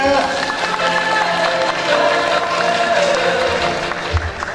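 Audience applause at the opening of a national poetry recitation contest; continuous crowd clapping of even loudness fills the hall, with tonal background sound and a brief low thump near the end.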